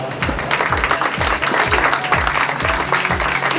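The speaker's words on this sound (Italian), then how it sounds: "accoglierei con un applauso enorme la persona più importante di Miss Principessa Tridento" Audience applause at a Miss Principessa d'Europa beauty pageant selection in Padova, dense steady clapping from an indoor crowd with rhythmic low thumps beneath, loud and close.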